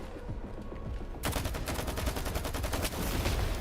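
Rapid automatic gunfire in the video game S.T.A.L.K.E.R. 2, a dense burst of evenly spaced loud shots starting abruptly after a quieter stretch and continuing to the end.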